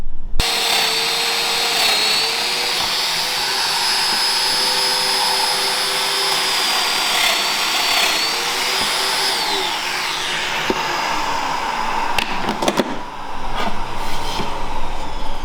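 A beveling machine set to its tight setting runs steadily with a loud, close whine and a sustained high tone. Its pitch shifts slightly as it works, and clunks and rattles come near the end as it winds down.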